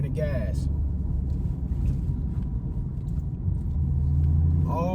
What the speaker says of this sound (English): Clutch in, second gear, off clutch, easy off clutch, back to giving it gas.